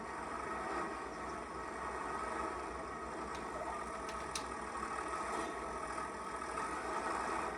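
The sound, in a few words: tractor engine in Farming Simulator 25 video game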